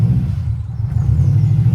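Boosted EJ engine in a Subaru Forester at a classic car breakfast meet, a deep steady low rumble up close with slight surges, no talking.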